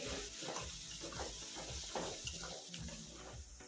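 A ground spice paste mixed with turmeric is sautéed and stirred in a pan for kadhi vada, giving a steady, fairly faint sizzle with soft scraping throughout.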